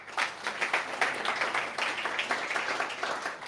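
An audience claps steadily at a startup pitch competition held in a coworking space, a dense, continuous patter of many hands that holds at an even, moderate level for the whole stretch.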